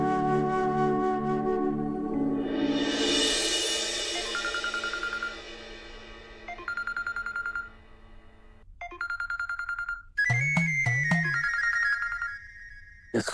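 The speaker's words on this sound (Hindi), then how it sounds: "इसका फोन कहाँ से आ गया?" A phone ringtone plays a looping electronic melody with rising sweeps and repeated chiming tones, fairly loud and close, with no talking.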